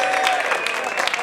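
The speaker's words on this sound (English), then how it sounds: "One more big round of applause for Kenyon and Adamcik" Comedy show audience clapping after a set, a brief dense burst of applause with a steady tone running beneath it, loud and close.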